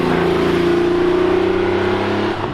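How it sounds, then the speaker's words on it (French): A Porsche 911 (964) flat-six engine hums steadily at high revs with a smooth, droning tone, then eases off near the end; close and loud with no talking. "Elle fait un bruit qui est super agréable de ce fameux flat 6."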